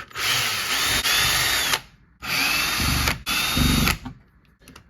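A power drill whines in two bursts while removing screws from a Losi RC car differential, close and loud, with short pauses and a brief stop between runs.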